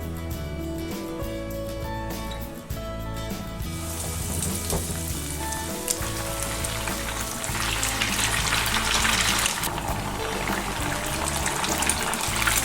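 Pieces of fried milk (leche frita) deep frying in hot oil, a loud, steady crackling sizzle that grows denser and brighter partway through and runs continuously without talk.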